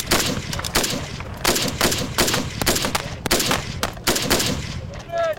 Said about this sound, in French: Dans l'équipe des instructeurs, César et Gwen se chargent des séances de tir. Engage position, fire